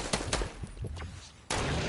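Rapid bursts of video game gunfire, several sharp cracks in quick succession followed by a louder sustained burst, dense and punchy with no talking over it.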